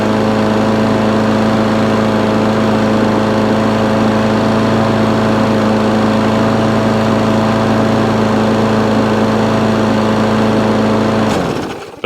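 A free old scrap lawn mower engine runs loud and steady at a constant idle, a continuous close drone that cuts out abruptly at the very end.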